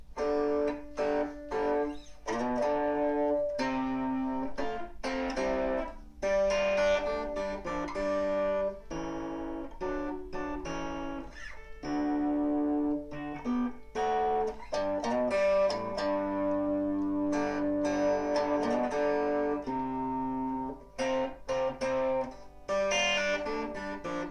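An electric guitar plays the verse of a song, a continuous melodic passage with plucked notes and chords, steady and clear with no voices.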